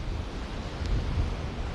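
Sea waves wash steadily at Pharaoh's Sea in Marsa Matrouh, a constant surf roar mixed with gusty wind buffeting the microphone, with no voices.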